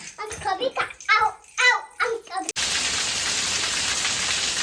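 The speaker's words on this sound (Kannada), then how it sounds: "ನೋಡಿ ಜೋರು ಮಳೆ ಬರ್ತಾ ಇದೆ ಒಳ್ಳೆ ಮಳೆಗಾಲದ ಮಳೆ ಸ್ಟಾರ್ಟ್ ಆದಾಗ ಜೋರು ಬರ್ತಾ ಇದೆ" Someone speaks briefly, then heavy monsoon rain at the start of the rainy season takes over abruptly as a loud, steady, hissing downpour that fills the rest of the clip.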